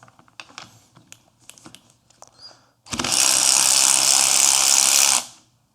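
A Parkside 12V cordless angle ratchet runs in reverse on a wheel bolt as a close, loud motorized whir that lasts about two seconds, after several light clicks and taps.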